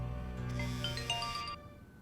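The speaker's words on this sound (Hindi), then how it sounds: "किसका फोन है भाई? उठा क्यों नहीं रहा तू?" A mobile phone ringtone chimes in a quick run of melodic electronic notes that stops abruptly, moderately loud with no voices over it.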